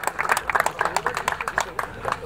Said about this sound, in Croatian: Još jedan aplauz, please